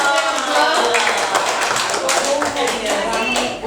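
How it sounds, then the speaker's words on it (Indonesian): A crowd applauds in a scattered burst of clapping, with voices murmuring underneath. "Beri tepuk tangan sekali lagi."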